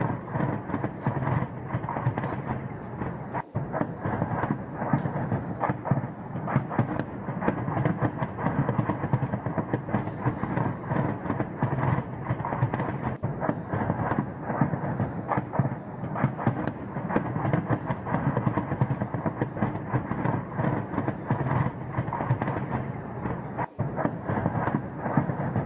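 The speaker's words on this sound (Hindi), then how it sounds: "खार्कीव में लगातार जो धमाके हो रहे हैं" Continuous heavy rumbling and booming with dense low-end roar, sustained throughout with a few sharper thuds, sounding like distant explosions from overnight bombardment of Kharkiv, Ukraine.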